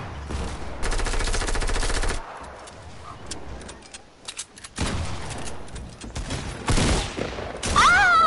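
Video game gunfire in bursts: dense automatic volleys open the clip, then quieter scattered shots, and more heavy rattling bursts near the end, loud and close with no talk.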